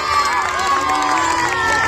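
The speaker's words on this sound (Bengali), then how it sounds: "তাদের জন্য একটা জোরে হাততালি হোক।" A crowd cheers and shouts for the winning team at the Terul Youth Cup 2026 trophy presentation, a busy, continuous swell of voices and whoops, fairly loud and steady for about two seconds.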